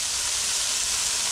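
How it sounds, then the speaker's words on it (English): Onions and mushrooms sizzling together in a pan, a steady close hiss of frying with no breaks. "just going to let these onions and mushrooms cook together"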